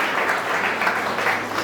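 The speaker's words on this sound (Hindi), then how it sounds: "जोरदार तालियां हो जाए कश्मीर के लिए।" A crowd at an engagement ceremony in Kabir Hall, Suva, gives a burst of loud, dense applause, steady and close throughout.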